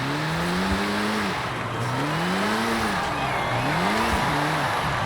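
A 2021 Mini John Cooper Works GP with an AWD drift tune in Forza Horizon 5, its engine droning loud and close, pitch swinging up and down in repeated revving sweeps over a constant roar.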